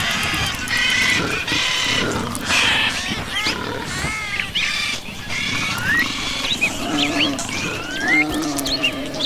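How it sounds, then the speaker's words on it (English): Hostile creatures in the game Spore growl and grunt in a dense, continuous din of animal cries, rising and falling over a busy background. "That noise you heard was some creatures that didn't like us that were growling at us."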